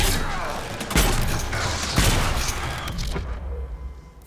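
Varric's explosive crossbow shot in Dragon Age Inquisition: two heavy booming impacts about a second apart ring out amid clattering combat noise, followed by a fading rumble.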